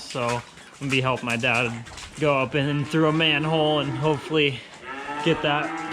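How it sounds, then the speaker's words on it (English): Hungry calves on a dairy farm bellow repeatedly in loud, drawn-out moos, several calls overlapping in quick succession, while someone talks over them. "You can hear them bellowing in the background."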